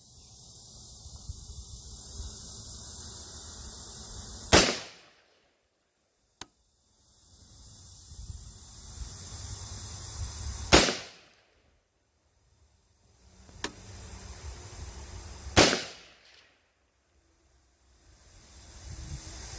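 Three loud, sharp gunshots from a rifle fitted with a James Madison Tactical Saber single-stage drop-in trigger crack out several seconds apart on a range, each with a short decaying echo amid faint outdoor background.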